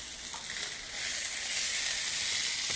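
Onions, peppers and zucchini frying in a vegetable skillet give a loud, steady sizzle that holds close and constant throughout, with no talking.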